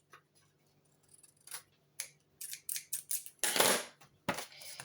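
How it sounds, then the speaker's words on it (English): Scissors trim the edge of a sheet of craft paper, a series of short crisp snips that quicken into a brisk run of cuts, close and fairly quiet with no talking. "I'm just going to trim the edge of that."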